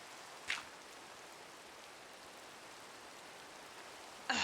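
Steady soft rain hiss continues throughout, with a brief brighter burst near the start and another at the very end, in the video game Minecraft.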